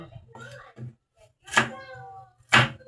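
A knife chops ingredients on a cutting board for paksiw na tulingan, with two sharp, distinct cuts and a few softer taps, while someone speaks quietly in between.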